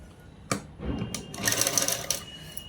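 A sewing machine runs a seam on a blouse, its rapid stitching rattle building after a few sharp clicks and handling knocks and then stopping, loud and close.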